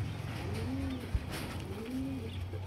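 Breeder pigeons coo in two soft, rising-and-falling calls over a steady low hum of background noise, close by, with a brief thump in between.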